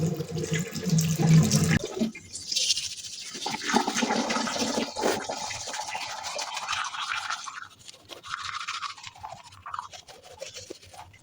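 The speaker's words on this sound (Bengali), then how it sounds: "দাঁত ব্রাশ করছি কিন্তু এখনো মুখ ধুই নেই।" A toothbrush scrubs teeth at close range with rapid rhythmic bristle strokes, followed by running water from a tap splashing into a sink, with no talking.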